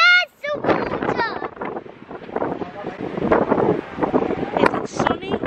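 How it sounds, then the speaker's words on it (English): Steady wind buffets the microphone in a low rumbling roar while a child and an adult talk close by. "Windy. Very windy."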